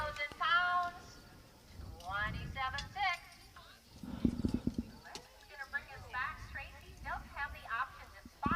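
Draft horse hooves clopping on the ground at a horse pull, rhythmic thuds mixed with crowd noise and an announcer talking over them, plus a brief whinny.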